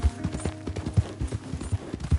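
Horse hooves clip-clopping in the video game Red Dead Redemption 2, a quick steady trotting rhythm of close, punchy hoof strikes with some background game sound.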